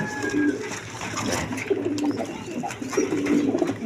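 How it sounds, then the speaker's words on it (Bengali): A pair of Lahori pigeons, a female and a male kept with a grown chick, coo in soft repeated rolling calls close by over a steady background murmur. "এখানে এক পেয়ার লাহরি কবুতর আছে দেখেন"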